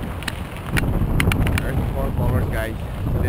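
Strong wind buffets the microphone with a constant low roar, with faint voices and a few clicks beneath it.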